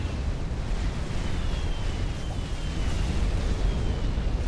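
An Atlantis unit blowing up in Supreme Commander, heard as a dense, continuous roaring rumble of explosions with no break, loud and close throughout.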